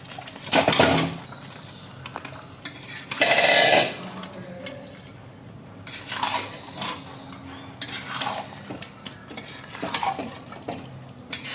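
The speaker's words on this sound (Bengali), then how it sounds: "এবার চিকেনটা দিয়ে দিচ্ছি।" Chicken goes into hot spiced oil in a pan, bursts of sizzling and spoon scraping against the pot coming in uneven surges over a low frying hiss.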